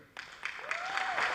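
Members of the US Congress applaud during Netanyahu's address, a crowd of clapping that swells from scattered hands into a sustained, fairly distant ovation, with a faint voice-like tone drifting through it.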